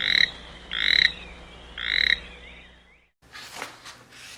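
A toad croaks three times in loud, evenly spaced bursts, clear and close, followed by a softer rustling noise, with no talking.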